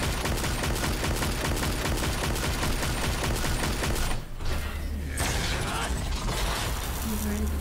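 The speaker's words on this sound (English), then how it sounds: "We're going to go ahead and activate his, like, cannon here." Rapid mechanical cannon fire from a character skill in the game Lost Ark, a dense rattling burst of repeated shots that pauses briefly midway and then resumes with lighter clatter, loud and continuous throughout.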